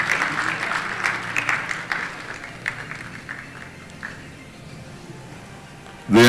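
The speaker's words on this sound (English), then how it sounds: "Big round of applause." Audience at a horse racing session in Dubai applauds in a round of clapping that tapers off over several seconds, with some crowd murmur.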